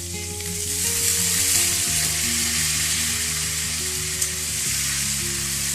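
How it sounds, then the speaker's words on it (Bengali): Cauliflower florets with a little turmeric frying in oil over a medium flame, giving a loud, steady sizzle that runs throughout with no talking. "এবারে কপিগুলো একটু ভেজে নেব।"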